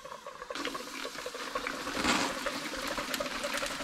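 Liquid nitrogen poured from a container into a vessel to cover a branding iron for freeze branding a horse, a steady close trickling and splashing pour with a faint gurgle, no talk.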